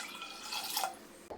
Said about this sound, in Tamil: இந்த டம்ளரில் 5 டம்ளர் தண்ணி ஊற்றி வேக விட்டுக்கிடலாம்